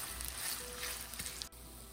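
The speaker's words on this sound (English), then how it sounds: "Now I'll add onions and fry them till they're golden brown." Onions frying in ghee in a pan, a soft steady sizzle with a few small crackles, close but fairly quiet.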